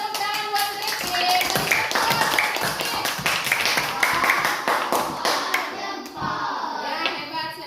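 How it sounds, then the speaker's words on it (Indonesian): Classroom applause for a student during a math lesson, with distinct individual claps from a small group that thin out toward the end, with faint voices underneath. "Tepuk tangan buat Rizky"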